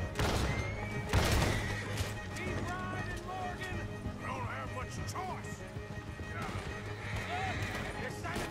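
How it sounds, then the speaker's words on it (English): Horse in the Western video game Red Dead Redemption 2 neighs loudly and gallops with steady clip-clop hoofbeats, accompanied by game sound effects throughout. "Thankfully, my horse is vaguely following Micah."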